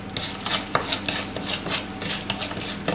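Sweet bean sauce is stir-fried over low heat, a spatula scraping the wok in a steady rhythm of close, bright strokes with a soft sizzle underneath.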